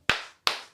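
Two sharp, loud hand claps from an audience at a live show, evenly spaced about a third of a second apart, each with a short ringing room tail and no talk.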